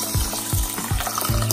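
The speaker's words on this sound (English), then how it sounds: "Just go ahead and fill up your pot with water" Water pours into a pot of uncooked rice for Armenian ghapama, a continuous splashing flow with a few lower gurgling surges, close and fairly loud, with no voices over it.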